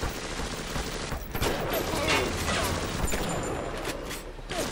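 Gunfire in the video game BioShock, a dense burst of shots and mechanical clatter running nearly continuously over game noise, with a brief lull partway through.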